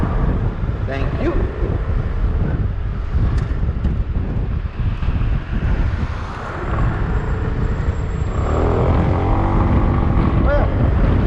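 A 2021 SYM Cruisym Alpha 300 scooter engine droning steadily while riding, loud and continuous under heavy wind rush, with the engine note rising toward the end.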